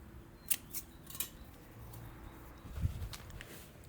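Scissors snip string in a greenhouse while tomato plants are trimmed and rigged: a few sharp, quick cuts spaced about half a second apart, close and fairly quiet, followed by soft handling rustle.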